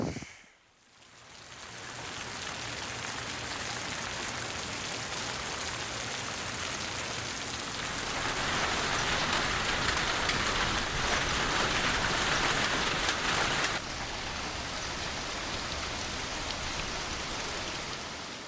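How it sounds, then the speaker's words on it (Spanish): Storm rain falls in a steady, dense hiss, fairly soft and evenly spread, swelling a little heavier partway through with no voices. "Se desató una tormenta y empezó a llover."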